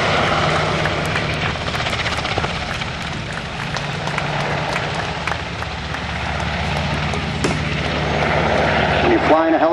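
A US Coast Guard HH-60J Jayhawk helicopter's loud, throbbing rotor and engine roar fills the scene steadily and close at a flying exhibition, with a voice faintly present beneath the noise.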